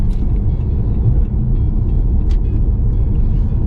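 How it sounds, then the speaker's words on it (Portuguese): A Jeep Compass 4xe plug-in hybrid accelerates on its electric motor, heard from inside the cabin as a loud, steady low rumble of road and drivetrain noise with a faint high whine above it. "Aqui, ó, acelerando, já estamos com 53 kW de gasto de potência ali no motor elétrico"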